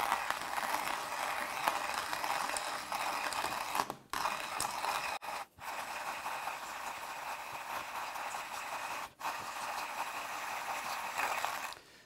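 A Hario Skerton Plus manual burr grinder is cranked by hand to grind coffee beans, producing a steady, close gritty crunching and rasping that runs continuously with a few brief pauses.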